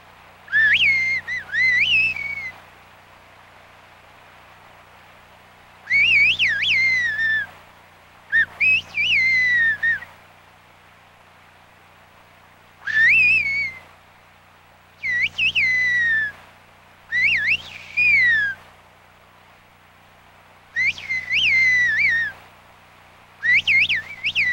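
A shepherd whistles in a whistled language, producing a series of loud, separate phrases with sharp rising and falling pitch glides, each lasting a second or two and spaced by short quiet gaps, heard alone without talk.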